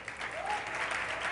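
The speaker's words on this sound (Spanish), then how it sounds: "Un aplauso al Señor." A church congregation applauds during a Spanish-language sermon, a short burst of steady massed clapping with a voice faintly rising within it.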